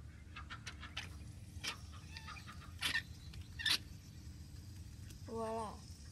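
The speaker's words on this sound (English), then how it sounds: "look at all the ducks already gathering around" Ducks on a farm gathering by a water trough give scattered clucks and quacks, some close and loud, over a low background hum, ending in a short run of quick nasal calls.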